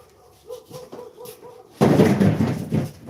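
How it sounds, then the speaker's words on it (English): A pet dog barks in several short bursts at something across a backyard fence, the yaps fairly close, followed by louder scuffling and knocking noises. "What's my dog barking at?"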